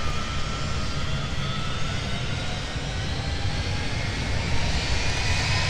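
A Delta jet airliner's engines roar during takeoff on runway 17 at Minneapolis–St. Paul airport. The sound is a loud, steady, broad roar that holds throughout, with no speech.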